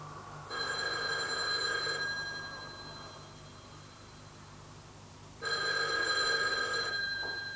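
A telephone bell rings in two long electronic bursts separated by a pause of several seconds, fairly faint and a little distant, alone over a low steady hum.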